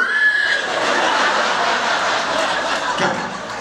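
A man on a comedy stage does a long, exaggerated vocal imitation of snoring, a loud raspy, whinnying drawn-out noise held for several seconds before a short break and a second burst.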